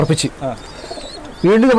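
A pigeon coos in short repeated bursts, near and fairly loud. Quieter rustling sounds fill the middle, and a louder, drawn-out coo or call follows at the end.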